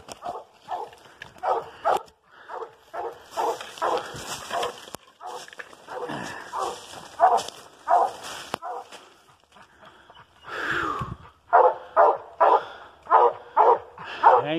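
Coonhounds bay and bark at a raccoon treed on private land, loud repeated barks in irregular bursts with short gaps, several coming in quick rhythmic runs near the end.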